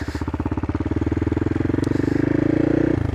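A CCM Flat Tracker motorcycle under way, its engine thudding in a fast, even pulse that climbs in pitch and loudness, then drops suddenly near the end as a gear changes.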